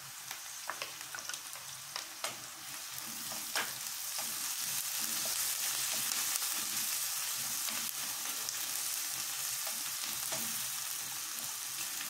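Onions and garlic sizzle and fry steadily in a pan for a pakora kadhi, a continuous crackling hiss with occasional stirring clicks and pops, close and alone without talk.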